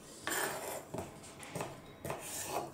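A knife chopping onions into squares on a board, giving four distinct cuts spaced roughly half a second apart with a scraping, clattering quality, close and fairly quiet, with no voices.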